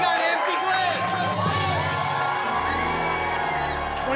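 A crowd cheers on a man chugging a 6-pound milkshake during a food-eating challenge, with loud continuous whoops and shouts blending with voices and background music.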